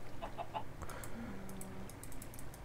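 Chickens cluck in the Minecraft video game on an egg farm, a few short soft clucks near the start and then faint clicking noises.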